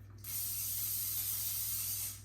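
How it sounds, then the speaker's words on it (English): A steady aerosol hiss from a can of non-stick cooking spray, one continuous burst lasting about two seconds, close and fairly loud, with no talking. "I'm going to spray it with non-stick cooking spray"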